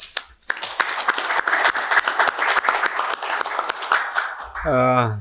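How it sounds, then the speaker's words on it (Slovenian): Applause from councillors at a municipal council session, a dense run of clapping lasting several seconds that breaks off near the end, when a voice begins speaking. "Jaz mislim, da si zaslužijo en velik aplavz."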